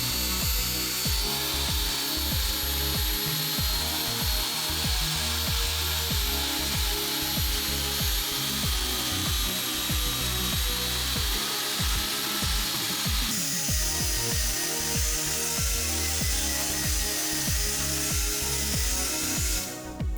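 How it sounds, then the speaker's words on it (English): A belt sander grinds foam from a vintage 1990s Selle Italia Flite bicycle saddle, a close, loud, continuous abrasive whir with a rough rhythmic rubbing texture and no pauses. "it may seem like I'm removing a lot of foam with a belt sander"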